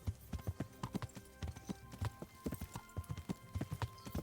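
Hooves clip-clop at a steady walking rhythm while riding a horse in Kingdom Come: Deliverance, sharp, close thuds repeating evenly for several seconds.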